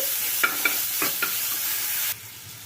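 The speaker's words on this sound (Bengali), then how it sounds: "একটুখানি নাড়াচাড়া করে ভাজা ভাজা করে নেব" Ginger, garlic and green chili stir-fried in oil, a soft continuous sizzle with four quick spatula scrapes in a row, up close and without speech, before the sizzle drops away abruptly near the end.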